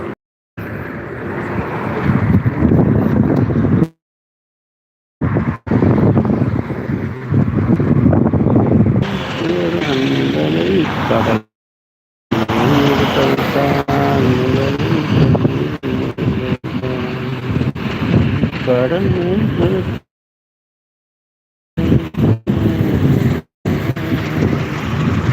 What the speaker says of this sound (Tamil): பயங்கரமாக இருக்குது காற்று. கையில் பிடிக்கவே முடியல மொபைலை.